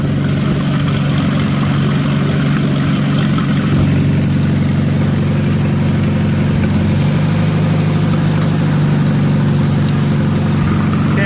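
A car engine idles steadily and loudly up close, running smoothly with a constant low rumble and no change in pitch, and no voices over it.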